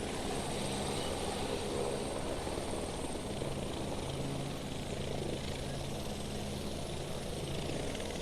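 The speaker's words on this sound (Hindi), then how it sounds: "देखिए अभी आया ये हेलीकॉप्टर और अभी आदमी लोगों को लेकर रसद सामग्री लेकर तत्काल यहाँ से उड़ चला।" An army helicopter comes in to land at a helipad during a flood rescue operation in Dharali, Uttarkashi, its rotor and engine producing a loud, steady roar that fills the whole stretch without a break.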